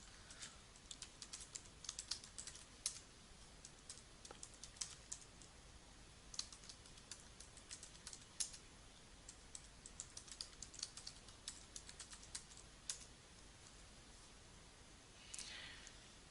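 Fingers tap out a username and password on a computer keyboard in quick, irregular bursts of light clicks, with short pauses between runs and a louder flurry near the end, close and alone.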